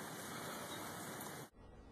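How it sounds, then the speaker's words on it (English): Golf-ball-sized hail pours down in a dense, continuous hiss of impacts during a severe storm, then cuts off abruptly near the end, leaving a fainter wash of noise. "Look how big that hail is."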